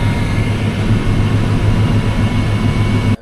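The feeder house chain of a broken-down Fendt combine runs in reverse, giving a loud, continuous low mechanical drone with a steady hum. It is close and unbroken, with no talk.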